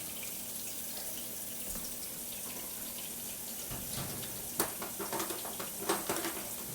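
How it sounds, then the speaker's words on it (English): Tap water runs steadily into a kitchen sink while a potato is scrubbed, with a constant watery hiss and several louder splashing, rubbing bursts toward the end, no speech. "I'm going to scrub it in water real quick."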